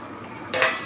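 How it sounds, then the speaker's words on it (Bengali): A metal plate used as a lid is lifted off a simmering pan of hilsa fish and eggplant curry, giving a sudden bright clink and scrape halfway through, with a soft background hiss before it. "এবার আমি থালাটা উঠাচ্ছি।"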